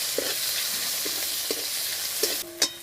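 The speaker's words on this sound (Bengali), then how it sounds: "এবার ভালো করে আবার একটু ভেজে নেব।" Chopped onion, whole garlic cloves and slit green and red chillies frying in a pan, a steady close sizzle broken by several soft clacks of a spatula stirring, with a sharper scrape near the end.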